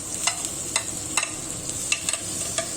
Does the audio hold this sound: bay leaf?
yes